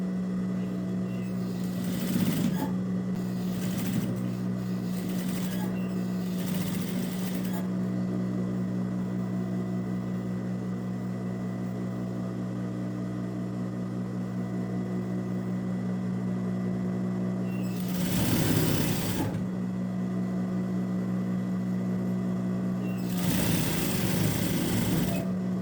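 A sewing machine stitching the sleeve seam of a child's winter pajama top, running in short bursts at first and then in longer stretches, close and whirring over a steady low hum, with no talk heard.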